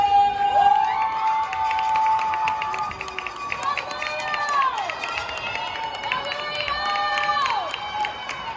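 A crowd cheers and shouts for a cheerleading team at a competition, a sustained, loud wash of voices with whistles and screams rising and falling throughout.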